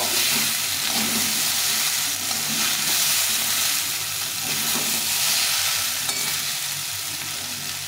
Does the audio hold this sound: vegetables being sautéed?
yes